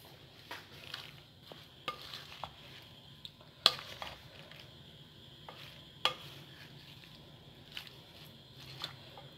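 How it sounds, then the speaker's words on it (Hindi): Fruit chaat with chickpeas and chaat masala being mixed in a bowl, quiet soft stirring with scattered sharp clicks of a spoon against the dish, close and without talk. "ये मैं चने डाल रही हूँ, चाट मसाला, इसको मैं अच्छे से मिक्स करूँगी।"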